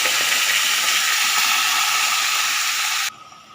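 Loud, close hiss and sizzle as Malabar spinach leaves hit hot oil already tempered with dried red chilli, a dense steady crackle that abruptly drops to a quieter simmer near the end.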